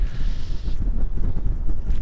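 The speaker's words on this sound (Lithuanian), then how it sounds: "vėjas gerai šnioja" Strong storm wind gusts buffet the microphone aboard a steel yacht in Svalbard, in low, rumbling bursts, with a brief airy hiss at the start before the rough blowing continues.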